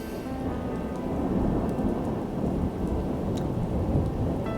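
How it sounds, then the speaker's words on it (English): Thunder rumbles low and continuous through a rainstorm in the video game Star Equestrian, a deep rolling roar under steady rain, no voices. "Thunder beats across the sky"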